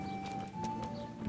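Horse hooves clip-clop in the medieval video game Kingdom Come: Deliverance, a few soft, uneven footfalls over a steady tonal background hum.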